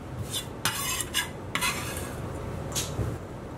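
Ingredients are stirred together in a bowl while preparing carne asada, a spoon scraping and knocking against the sides in a few sharp bursts between softer swishing.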